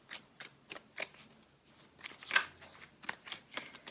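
Tarot cards being shuffled by hand, a series of quick, crisp riffling and slapping bursts in an irregular rhythm, close and fairly soft against a quiet background.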